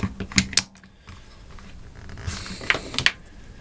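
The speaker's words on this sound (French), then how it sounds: "on peut entendre les électrovannes dedans s'activer à chaque coup de gâchette" Solenoid valves inside a Wolverine Bolt HPA kit fitted to a VSR airsoft rifle clicking with each trigger pull, a few sharp, close mechanical clicks in small irregular bursts over quiet handling noise.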